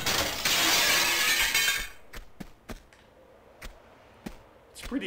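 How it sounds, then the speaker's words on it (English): Glass shatters when shot in Tomb Raider Remastered, a loud burst of breaking glass lasting about two seconds, followed by scattered sharp tinkles and clinks of falling shards. "It's a pretty satisfying sound in this game when you shoot glass"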